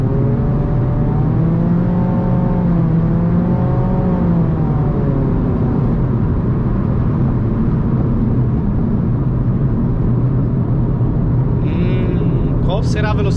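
A Mitsubishi Lancer with a CVT, naturally aspirated, accelerates downhill toward top speed, its engine holding a steady, loud drone with rising and falling harmonics alongside heavy wind and road noise, while people talk over it.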